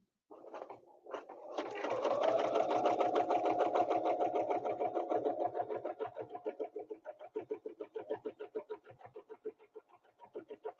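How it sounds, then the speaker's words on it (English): A sewing machine stitches double rows on the bottom of fabric, starting with a few short bursts, then running in a steady whir before slowing into a distinct rapid chugging rhythm, moderately quiet. "this time we're going to stitch double on the bottom"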